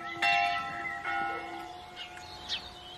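Several clear strikes of the church tower bell at La Jasserie refuge in the Pilat mountains ring out at a distance, each stroke decaying slowly, with faint birdsong in between.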